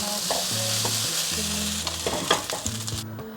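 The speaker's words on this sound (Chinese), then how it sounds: "炒饭就是要不停的翻炒，让米饭炒得够香。" Rice stir-fried in a wok, a continuous close sizzle with brisk scraping and tossing strokes from the spatula and a tonal hum beneath.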